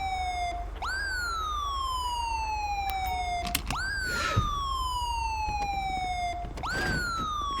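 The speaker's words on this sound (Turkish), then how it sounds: "Şu sireni bir kapatayım da." A wailing police siren in the video game GTA 5 sweeps down and up repeatedly in a steady cycle, loud and continuous over a low engine rumble.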